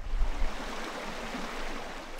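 Redwood Creek, a stream running past old-growth redwoods toward Muir Beach, gives a steady broadband wash of flowing water, fairly even and continuous with no voices.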